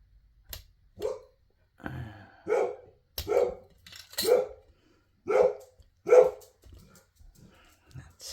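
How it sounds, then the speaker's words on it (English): A dog barks about eight times in separate single woofs at a steady, unhurried pace, fairly close and moderately loud indoors, with a brief low growl between the barks. "That's my dog."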